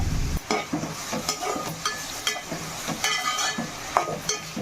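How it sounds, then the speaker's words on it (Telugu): Chopped onions with green chillies, rock salt and turmeric cook in a pan for a drumstick and tomato curry, giving a steady close sizzle broken by repeated scraping stirs and light clinks of a spoon against metal. "కొద్దిగా రాళ్ళుప్పు కొంచెం పసుపు వేసుకుని ఉల్లిపాయ ముక్కల్ని మగ్గించుకోవాలి"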